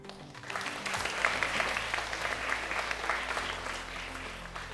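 A large audience claps steadily through a school AI debate competition semi-final in a formal hall, a dense, even wash of applause that holds for several seconds without letting up.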